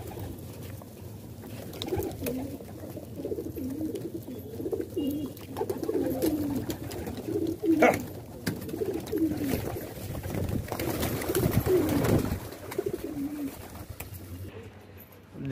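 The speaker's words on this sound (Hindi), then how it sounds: "देखो कबूतर को, कबूतर इधर घूम रहे हैं" Pigeons kept by a pigeon fancier coo in repeated soft, throaty phrases close by, joined by a few wing flutters, while someone speaks intermittently over the birds.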